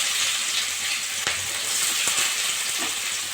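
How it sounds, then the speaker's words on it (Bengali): Onions sizzling and frying in hot oil with whole cumin seeds, after potatoes were fried in the same oil, for a potato and dried fish curry; a steady close crackling hiss with a few soft stirring knocks, no talking. "পেঁয়াজটা একটু ভেজে নেব"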